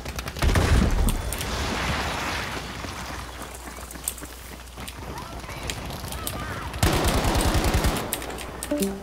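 Machine guns rattle in a Battlefield V fight, bursts of rapid fire at mid distance with a heavy opening volley, a steadier stretch of shots, then another dense burst near the end.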